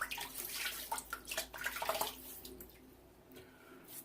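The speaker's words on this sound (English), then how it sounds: "let's wet the face again" Water splashing onto a face being wet before a shave, quick uneven splashes and drips close by for the first two seconds, then a quieter trickle with the tap running softly.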